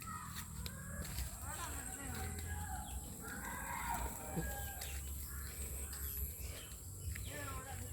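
Chickens being fed rice outdoors, with clucking and chirping calls scattered through the scene over a steady low background, while a person talks nearby.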